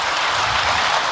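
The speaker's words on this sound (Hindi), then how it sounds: "आपको सुनना है तो तालियां बजाइए" Audience applause during a motivational talk, a dense, even burst of many hands clapping, loud and close, with no talk over it.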